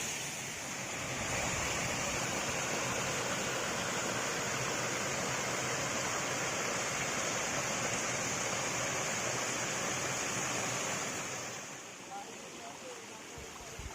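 Steady roaring rush of a waterfall, Lobang Atas in Peusangan Selatan, Bireuen, loud and broadband, continuing for most of the stretch before easing slightly near the end.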